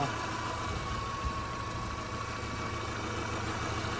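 An old Subaru engine with 265,000 miles and heavy blow-by idles steadily at close range, a low continuous rumble with a faint rhythmic knock and no other sounds.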